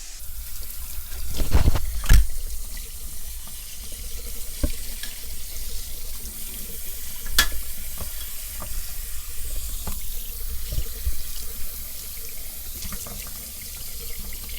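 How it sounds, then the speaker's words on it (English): Tap water runs steadily into a kitchen sink while four cups of rice are rinsed, a continuous wash of flowing water with a few louder splashes and clinks from the grains and bowl. "you're going to rinse it till the water runs clear"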